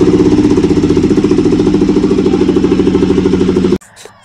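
An engine-driven mustard oil pressing machine runs loud and steady, a close, rhythmic mechanical chugging that cuts off abruptly near the end, leaving quiet.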